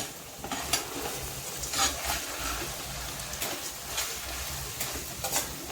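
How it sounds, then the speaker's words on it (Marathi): Chicken is worked into cornflour paste in a bowl by hand, giving close, wet squelching and slapping in irregular bursts over a soft steady background. "आता आपण चांगलं मिक्स करून घेऊया"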